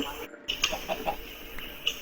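Minecraft chickens cluck in a few short, soft bursts through a brief stretch of in-game ambience, with people talking over them.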